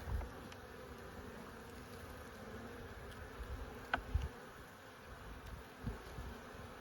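A steady, low buzzing of many honey bees around a Langstroth hive during an inspection fills the air, with occasional faint knocks and clicks nearby; no talking.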